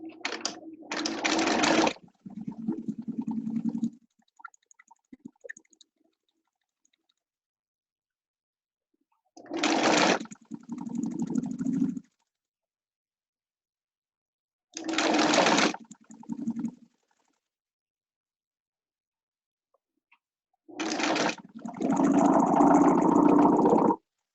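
A sewing machine stitching a scrub cap around a curve in four separate bursts of a few seconds each, a close whirring motor with rapid needle chatter and quiet pauses between runs.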